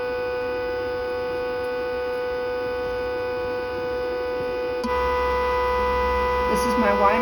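An Intelliquilter Y motor runs with a steady electric hum and fixed tonal whine, getting louder and fuller partway through, with a few faint clicks and no speech.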